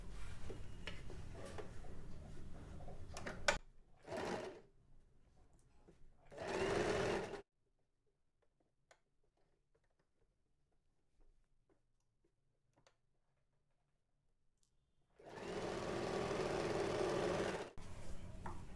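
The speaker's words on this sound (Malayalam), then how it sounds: "ഇനി ഇതിൻ്റെ വക്കിലേക്ക് കൂടെ നമുക്ക് സ്റ്റിച്ച് ചെയ്ത് എടുക്കാം." A sewing machine stitches along the collar edge of a kurti in three loud bursts, a short run near the start, a second around seven seconds, and a longer run near the end, with quiet gaps and faint handling noise in between.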